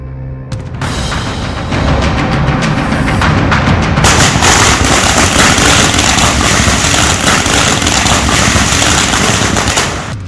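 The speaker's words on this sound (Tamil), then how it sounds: "வழக்கு பதிவு செய்யப்பட்ட நிலையில் பட்டாசு வெடித்து கொண்டாடியது யார்?" A long string of firecrackers bursts in celebration, a loud, dense, continuous rattle of rapid cracks lasting about ten seconds and growing even denser partway through, with no voices.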